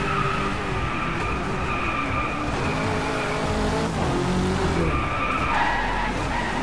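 Car tires skid and squeal continuously while drifting with the handbrake in the DriveClub racing game, a loud sustained screech over a steady engine roar.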